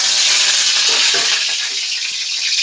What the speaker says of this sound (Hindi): मैं इसका तड़का बनाना दिखाती हूँ आपको।